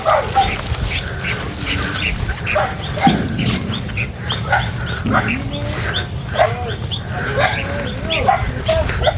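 Several dogs bark and yip in short bursts at moderate distance as they come out to greet arriving visitors, with a steady rain-like hiss and some low murmuring underneath.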